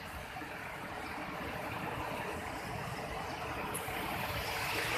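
A mountain stream flows along its bank in a steady, unbroken wash of water that stays fairly close and gradually swells a little louder.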